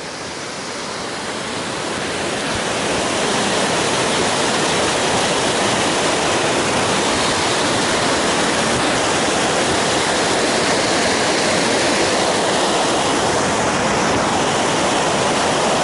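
Rushing water pouring over rocks, a dense, loud, steady roar like a waterfall or fast stream that swells in during the first few seconds and then holds constant with no voices.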